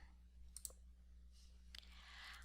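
Computer mouse clicks while dragging a zipped file into an upload page, a few sharp close clicks over a low electrical hum, faint and without speech.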